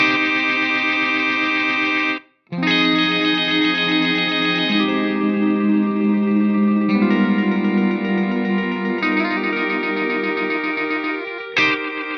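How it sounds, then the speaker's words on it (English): An Eventide H9 delay algorithm with many taps cranked up produces a glitchy, reverb-like wash of sustained, smeared tones that shift in stepped blocks, with one brief dropout early on and a sharp burst near the end. "it's got this kind of glitchy reverb thing going on"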